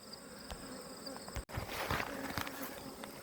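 Bees buzzing around the hives in an apiary, a steady, fairly faint outdoor hum of many insects with a brief break midway and a few nearer passes afterward.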